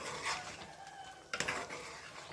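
Chicken gravy with pepper powder and coriander being stirred in a pot, heard as quiet scraping and a brief clatter of a utensil against the metal.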